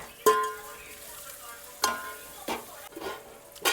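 Potatoes cook in a pan with salt and spices, a faint sizzle running beneath a few sharp scraping stirs of a spoon against the pan, spaced out and close.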